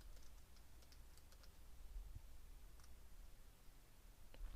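Faint, scattered keyboard typing, light clicks and taps in small bursts over a low background hum.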